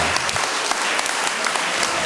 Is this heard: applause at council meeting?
yes